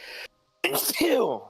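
A single sharp sneeze bursts out close to the microphone, followed after a brief silence by a person speaking.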